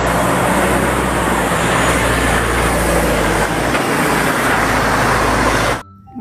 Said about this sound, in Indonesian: Mobil truk towing.